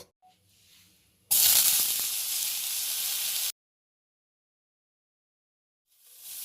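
Food frying in a spoonful of ghee for a tofu salad bursts into a loud, close sizzle for about two seconds, then cuts to silence.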